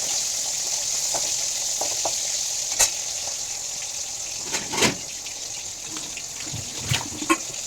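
Slices of pointed gourd fry in a pan with a steady, soft hiss of sizzling oil, broken by a few brief clicks and scrapes of utensils against the pan.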